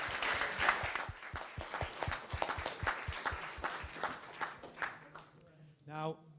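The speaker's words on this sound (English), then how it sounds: "Give her a round of applause" At a public meeting in Lambeth, people applaud the local MP with distinct, rhythmic claps standing out from a busier patter, fading away before a single voice briefly speaks at the end.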